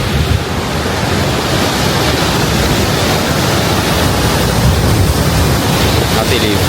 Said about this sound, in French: Regardez les vagues et tout.